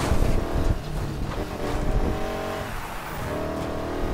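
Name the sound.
car driving in video game Need for Speed Heat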